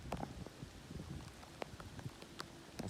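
Rain falls outdoors in steady spurts, a soft, close patter with scattered sharper drops striking a surface, fairly faint and with no talking.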